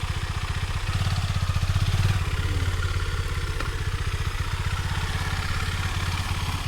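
A motorcycle engine idles steadily with a rapid, chugging pulse and light mechanical clatter, at moderate volume with no talking.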